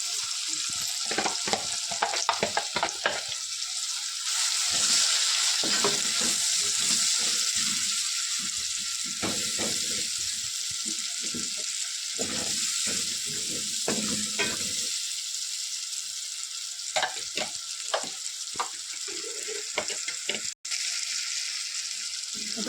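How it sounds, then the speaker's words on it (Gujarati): Chopped onion and tomato sauté in a pan of hot tempering oil, giving a steady soft sizzle broken by repeated scraping and stirring clatters, with no talking. "આપણે ડુંગળી ટમેટા નાખ્યા હતા, એ સરસ સોતરાય છે"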